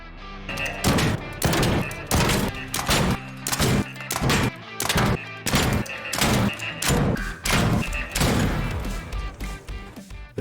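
Turret enemy in the ARC Raiders game firing, a loud, steady barrage of heavy repeated gunshots and thuds in rapid bursts, close and continuous.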